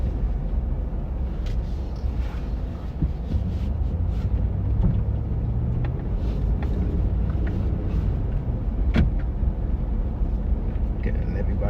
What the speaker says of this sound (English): Having a nice 4x4, you can just blow through all the snow and have some fun in it.